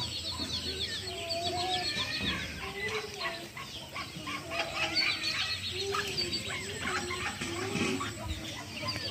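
Ducklings and adult ducks in a backyard, a busy mix of peeping chirps and clucking calls throughout, with faint rustling and occasional wing flaps nearby.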